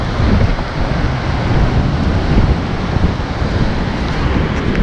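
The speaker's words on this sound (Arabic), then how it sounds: "شوفوا البحر شوفوا البحر شوفوا البحر كاين حتى الريح" Sea waves crash and churn against the shore near the Hassan II Mosque while strong wind buffets the microphone, a loud, continuous, roaring wash with no voices.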